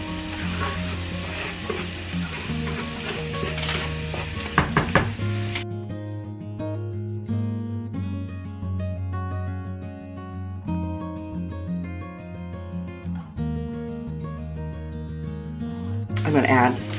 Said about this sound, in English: Now we're just going to throw in our garlic and our onions.